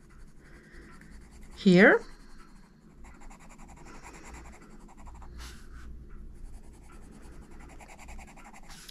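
A CASTLE Art Metallics coloured pencil in magnetic mauve scratches softly across paper in steady strokes, close and quiet, with a brief louder vocal burst and faint talk in the room.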